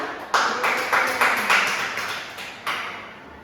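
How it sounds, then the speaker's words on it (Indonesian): Classroom audience clapping in an Indonesian microteaching lesson, a brief patter of hand claps with several sharp onsets over a few seconds, moderately loud and fairly close, with little else around it. "Beri tepuk tangan"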